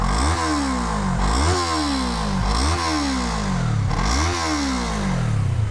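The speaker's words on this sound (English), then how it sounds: "Let me show you guys a sound review. I do have the muffler taken off" Yamaha R3 300 cc parallel-twin motorcycle with its muffler removed, revved hard four times in a row, each blip rising sharply and dropping back, loud, close and raspy with no talking.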